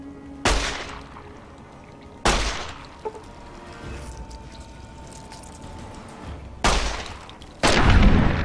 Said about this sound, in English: I need to waste my sniper rifle on it.